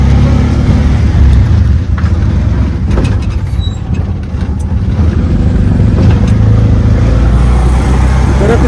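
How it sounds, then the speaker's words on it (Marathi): An auto rickshaw drives past on a rainy road during a Ganpati festival outing, its engine a loud, steady rumble that fills the whole stretch and swells slightly before easing off, with faint traffic noise around it. "रिक्षा गेली."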